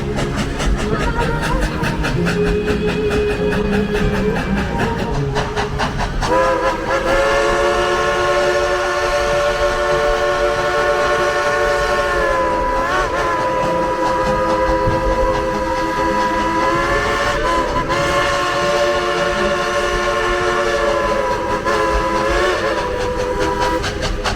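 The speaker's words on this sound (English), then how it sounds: "Without him, this train wouldn't be rolling." A train at Dollywood rumbles steadily and loudly throughout, with sustained tonal whistle or horn-like pitches layered over the rolling noise.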